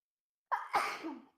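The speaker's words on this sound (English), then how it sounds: "So I have to sneeze." A single sneeze from one person, fairly quiet and close, with a sharp intake of breath followed by a longer breathy burst that trails off.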